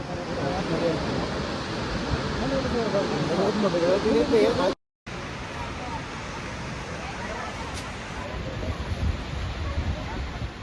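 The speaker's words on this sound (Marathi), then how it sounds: "पहा हा धबधब्याचा थरार, किती सुंदर, किती प्रचंड आणि किती आवाज" Steady roaring rush of heavy falling water at Thoseghar waterfall, loud and continuous, with a brief dropout midway and faint voices blended into the noise.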